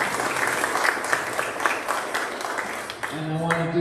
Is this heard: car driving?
no